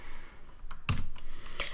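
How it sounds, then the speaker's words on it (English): A single key press on a computer keyboard while modelling in Blender, heard as a sharp near click standing out from low room noise, with a few fainter taps around it. "we are simply going to go hit 3 on our keyboard"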